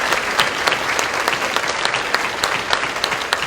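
A church congregation applauding during worship, with dense, sustained clapping that fills the room at an even level.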